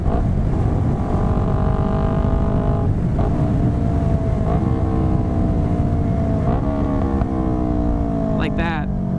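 A 2015 Yamaha R3 motorcycle engine idles steadily, then gets several sharp throttle blips during rev matching. Each blip briefly pushes the pitch up before it falls back, heard up close.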